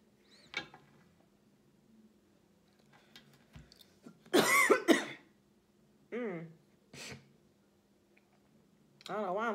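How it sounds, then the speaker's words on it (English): A person coughs and clears their throat in several separate bursts, close and fairly loud, with quiet pauses between them. "I don't know why I'm coughing like that."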